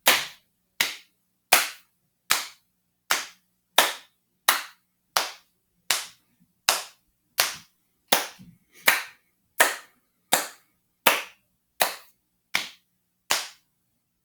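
Steady rhythmic clapping of hands and knees for a music lesson, about nineteen sharp, evenly spaced claps and slaps at a moderate tempo, close and crisp with no talking.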